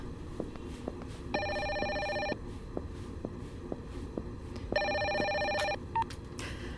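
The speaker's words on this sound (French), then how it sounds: "C'est le téléphone." An old-style electronic telephone ringing in a quiet room, two loud trilling bursts about a second long each, separated by a pause, with faint clicks and movement between them.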